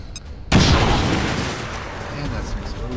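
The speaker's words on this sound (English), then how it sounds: "And that's an explosion." A sudden loud blast in the video game XCOM 2 follows a quiet moment, then rumbles and decays over the next few seconds while a voice talks faintly underneath.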